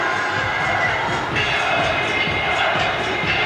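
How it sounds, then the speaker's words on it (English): A big crowd at Wembley Arena for a boxing match, loud continuous roar and cheering with scattered shouts, filling the space throughout. "Big crowd at Wembley Arena."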